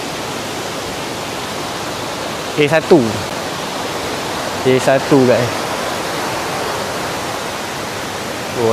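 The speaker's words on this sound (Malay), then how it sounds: "Sungai ni mungkin musim hujan. Sungai Jeram ni agak kuat sikit guys hari ni." River rapids at Lata Rambong in Perak run strong in the rainy season, a loud, steady rushing roar that fills the whole scene while someone briefly speaks over it.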